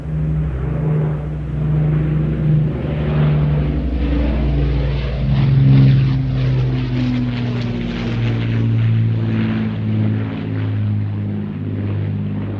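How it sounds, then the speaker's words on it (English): The propeller engines of an Avro Lancaster bomber make a loud, continuous droning roar as the aircraft passes, with the engine pitch slowly shifting throughout and no talk over it. "Listen to the sound of the Lancaster."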